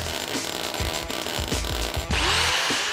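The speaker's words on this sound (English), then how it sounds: "An angle grinder quickly smartens them up." An angle grinder smooths freshly welded steel chevrons on a World War II tank track, a loud, close, steady whine with a few knocks and shifts in pitch as the disc bears on the metal.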